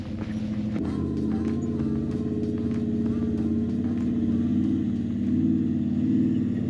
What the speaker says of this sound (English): there's actually a Jeep coming up here